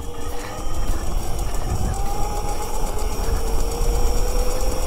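A homemade electric mini bike's motor runs at 50% power with a steady, close whine and a continuous rumbling drone, rising slightly in pitch as it is held wide open.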